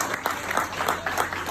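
Congregation at a church service breaking into applause, a short burst of dense clapping with soft rhythmic swells, fairly loud and close, with no talking over it.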